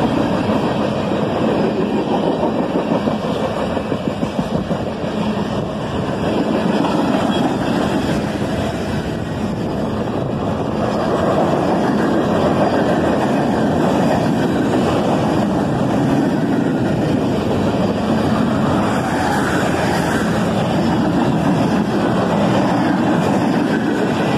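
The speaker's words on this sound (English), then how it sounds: "And the end of the train is a big cut of empty steel slab cars." A long BNSF freight train with modern GEVO locomotives and empty steel slab cars rumbles steadily past, wheels clattering over rail joints with a constant loud roar and no voices.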